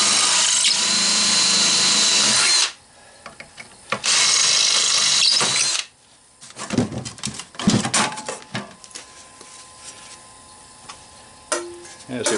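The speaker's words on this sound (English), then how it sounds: "Just drill them rivets out." A power drill bores out rivets on a shop fan with a copper motor, whining loudly in two long bursts, then followed by clattering, scraping handling noises and brief tool sounds.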